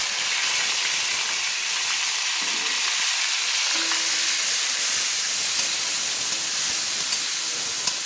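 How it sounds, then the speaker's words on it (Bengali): Chopped onions, five of them, sizzle in hot oil in a pan while cooking a chicken and cauliflower curry, a loud, steady frying hiss running throughout with faint stirring scrapes and no talking. "পেঁয়াজগুলো আমি লাল লাল করে ভেজে নেব।"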